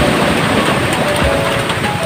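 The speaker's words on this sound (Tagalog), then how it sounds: "Ulan yung panahon eh." Steady, dense hiss of rain falling continuously at Pier Uno in the early morning, fairly loud and even throughout, with no voices.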